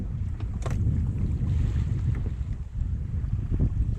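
Wind buffets a sailboat at sea on the Baltic near Kristianopel, a loud continuous rush of wind noise with water swashing against the hull, steady with slight surges throughout.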